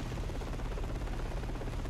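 Helicopter in the Half-Life VR video game gives off a steady, faint rotor thrum and buzz, a continuous low chopping drone with no voices over it.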